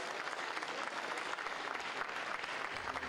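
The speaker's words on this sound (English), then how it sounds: "Please can we give him a round of applause?" A round of applause from the audience at an apiculture expo, dense continuous clapping from many hands throughout, steady and moderately loud with no pause.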